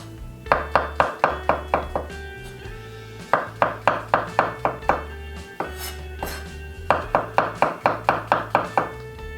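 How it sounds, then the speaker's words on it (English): A knife slices mushrooms rapidly against a cutting board, making three bursts of brisk rhythmic chops with short pauses between them. Each burst is clear and close. "And I have here some mushroom, slice as well."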